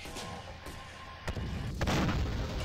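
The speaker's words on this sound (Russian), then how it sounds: "Возгорание, взрыв." A blast in the Syrian Warfare strategy game, a building exploding and catching fire: a sharp burst with a rumbling low-end roar that lingers, preceded by a fainter thump, over steady battlefield ambience.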